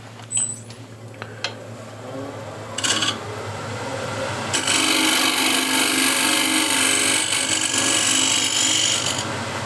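A wood-turning scraper cutting a spinning workpiece on a lathe gives a steady rasping, scraping texture that builds and grows louder and denser after a few brief scrapes, running continuously to the end.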